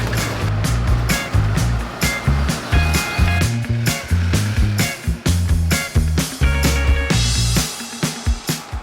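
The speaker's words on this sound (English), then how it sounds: "So that's why we got into a Porsche tuk-tuk." A ride in a fast Porsche-made tuk-tuk through the streets of Colombo, Sri Lanka: a close, loud rattling engine drone with repeated bumps and surges, wind and road noise, and no talking.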